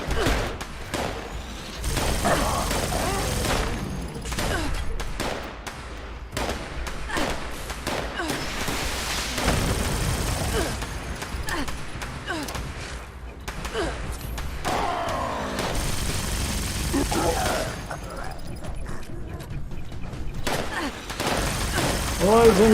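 Rapid gunfire in the Fallout 76 video game, a near-continuous barrage of loud shots and thuds with bursts of automatic fire, a voice talking over the fighting throughout.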